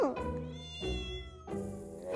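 A tiny long-haired Persian kitten meows close by, giving two drawn-out, rising and falling cries separated by a short pause.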